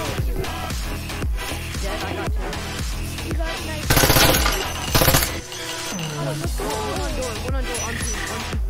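Shotgun blasts in the video game Breachers, a rapid string of loud, sharp shots with clattering breaks and short bursts between, under faint game noise.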